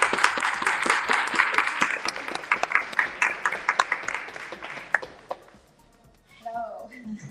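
Audience applause at a book convention in Manhattan, with dense clapping filling the room for about five seconds before thinning out and fading, followed by a brief voice.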